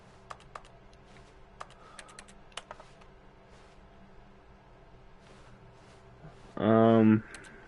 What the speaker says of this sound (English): Why does it sound like I'm pressing keyboards?